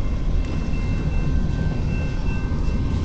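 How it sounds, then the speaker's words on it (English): A long CN eastbound mixed freight train led by locomotive 2641 passes at speed in Port Huron, Michigan, a loud, close, continuous rumble of rolling cars with a faint high whine above it. "It's going to go pretty fast now. The train will, because it's going to Canada."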